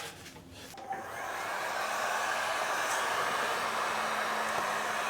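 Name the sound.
hot air gun heating motorcycle rubber boots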